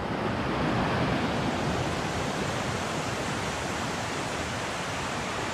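Small creek along the Dosewallips River trail in Washington, flowing steadily with a constant broadband wash of water, close and even throughout with no voices.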